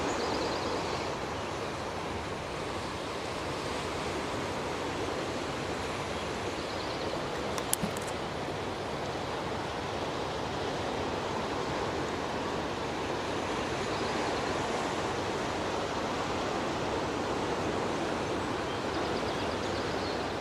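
Steady, soft wash of waves on the rocky back shore of Peaks Island, heard faintly and at a distance, with a light breeze and no talking.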